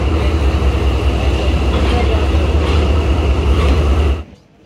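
The Karakoram Express passenger train stands at a station with a loud steady low rumble and hum of engine and carriages. The sound cuts off abruptly near the end.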